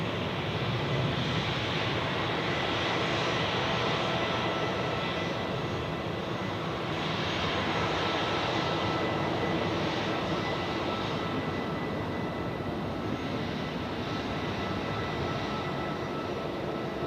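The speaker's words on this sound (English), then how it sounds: "And now the United flight has received takeoff clearance and it starts to move right now" A United airliner's jet engines spooling up as it begins its takeoff roll at Zurich Airport, a steady, dense roar that holds loud and even throughout, heard from a distance with no talking.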